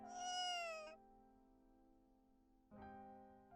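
An injured cat in Dandelion Sky gives two meows, a long rising-and-falling cry followed after a pause by a shorter second one, close and soft over a quiet sustained musical tone.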